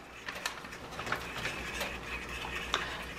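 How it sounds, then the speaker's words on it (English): Pasta is stirred into a pot of boiling water on the stove, with a utensil scraping and clinking against the pot several times over a bubbling background. "stir them into our boiling water"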